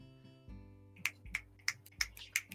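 Soft, sparse hand claps from a classroom in the Katawa Shoujo visual novel, about six light pats spread over a couple of seconds above a quiet musical backdrop.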